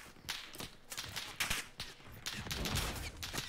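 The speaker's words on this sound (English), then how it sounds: "I'm being shot at from behind." Gunfire from behind the player in the video game Warzone: a string of sharp, cracking shots in irregular bursts, fairly faint and distant-sounding, with no talk over it.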